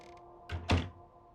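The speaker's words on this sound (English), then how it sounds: "I'll just close the door." A door swings shut with a soft whoosh followed by a single solid thunk, close by in a quiet room.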